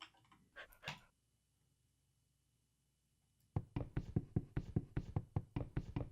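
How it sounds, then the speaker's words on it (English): A wolf in the Minecraft video game barks in a quick run of about a dozen loud, close yaps with a rhythmic cadence, coming in after a brief stretch of noise and then near-silence. "Woof, Wolfie agrees."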